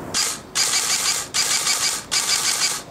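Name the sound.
GFC HK416 airsoft replica firing rapid semi-auto shots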